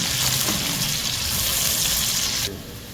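Onions frying in oil until light golden, giving off a dense, steady sizzle that drops away sharply near the end.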